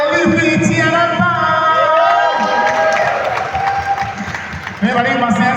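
Audience applause with scattered cheers at an Indonesian film meet-and-greet press conference, a loud sustained crowd wash running throughout under a host's voice.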